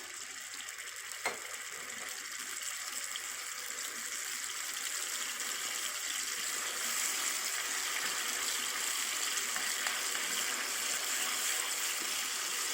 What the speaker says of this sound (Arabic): انا دلوقتي هنزل اهو بالدقة اللي انا عاملاها على الزيت، هحمرها شوية كده